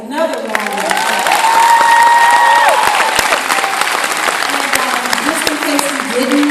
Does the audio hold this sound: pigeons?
no